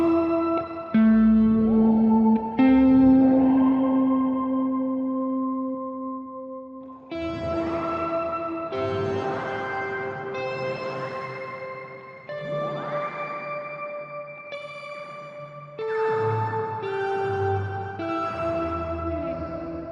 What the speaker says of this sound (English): It's a big reverb with pitch shifting going on within it as well.